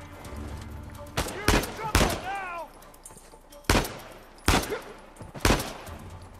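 Gunfire in the video game Uncharted 4: several sharp, loud single shots ring out at irregular intervals, with a brief voice between them.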